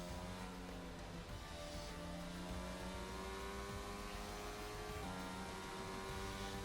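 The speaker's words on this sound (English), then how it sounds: "Emod does some donuts" A race car doing donuts in a racing video game at Belgium, a steady engine drone with gliding pitch changes as it revs and spins, moderately loud and continuous with no talking.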